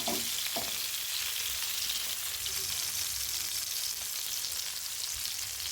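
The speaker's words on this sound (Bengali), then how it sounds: "কই মাছ ভাজা আমার প্রায় শেষ" Koi fish frying in hot oil, a steady close sizzle with faint spattering and occasional light stirring knocks, heard alone without talk.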